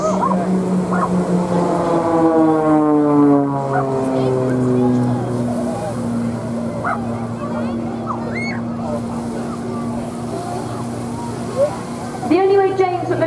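Blades aerobatic aircraft perform pairs knife edge spins at an airshow, their engines droning loudly with pitch sliding steadily downward as they pull up and away, a voice commentating over the noise.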